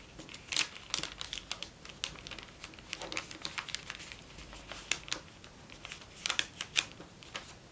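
Origami paper being folded and creased by hand, irregular soft crinkles and sharper rustling bursts, quiet and close with brief pauses between handling sounds.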